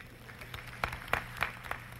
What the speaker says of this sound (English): That's a good place to clap.